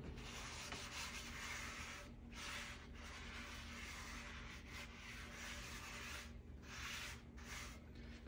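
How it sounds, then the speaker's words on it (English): Soft, repeated rubbing strokes of a cloth wiping excess oil off a heated Vinchef nonstick skillet, close and quiet with a rhythmic swishing pattern and no talking. "I'm just going to wipe off the excess"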